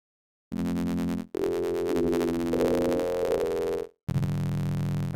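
A sine wave from a Reason Rack plugin running in Pro Tools sounds oddly buzzy and harmonic-rich, with steady tones in three blocks separated by short silences and shifting pitch in the middle section.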